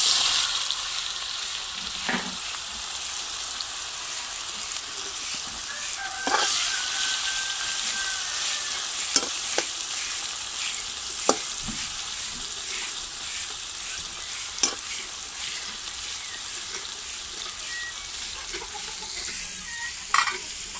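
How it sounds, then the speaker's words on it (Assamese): Boiled jackfruit coated in spices fries in a pan with a loud continuous sizzle throughout, broken by occasional clicks and scraping stirs, close up and with no talking. "মাৰি লৈ ইয়াক এতিয়া বইল কৰাৰ পিছতো আকৌ এতিয়া পূৰা ফ্ৰাই কৰি ল'ম।"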